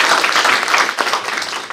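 An audience at a Hmong community scholarship awards event applauds in a dense, loud burst of clapping that holds for the full couple of seconds.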